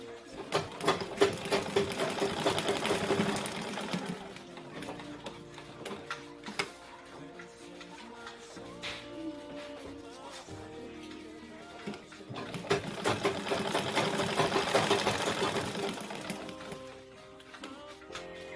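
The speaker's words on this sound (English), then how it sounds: "so you sew it around." A sewing machine stitches around the lining of a ladies' shoulder bag, running in two longer bursts of rapid, even ticking separated by quieter fabric handling, fairly close and moderately loud with no speech.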